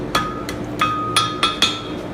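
A hammer strikes metal on an anvil about five times at an uneven pace, each blow a sharp, close, ringing clang while shaping a metal Christmas elf in a workshop.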